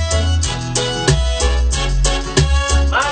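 Reggaeton instrumental beat being produced in a studio, with punchy booming bass kicks and snappy hits repeating in a steady groove under layered synth tones, loud and close, no voices.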